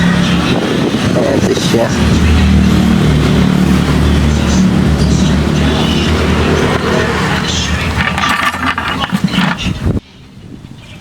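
Car engine with a slow-turning starter, cranking, starting and revving into a loud, rough, roaring run that cuts off sharply near the end, with someone speaking over it.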